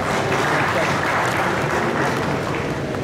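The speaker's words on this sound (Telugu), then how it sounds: "చప్పట్లు" A crowd at a swearing-in ceremony for the new board of a primary agricultural cooperative society in Jagtial applauds in a loud, continuous, even burst of clapping that lasts the whole stretch.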